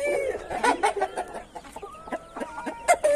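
Chicks and an Indian gamecock rooster cluck close by, with a rapid run of clucks and peeps overlapping into a busy chatter on a hot day, loud and near.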